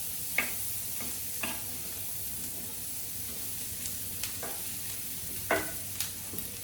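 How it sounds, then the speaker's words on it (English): Sliced onions cook in a skillet with a steady close sizzle, broken by a few sharp clicks and scrapes as they are stirred, and no one speaks. "I'm going to let those onions cook for about 2 minutes or so, 3 minutes maybe."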